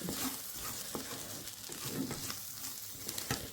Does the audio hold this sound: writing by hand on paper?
no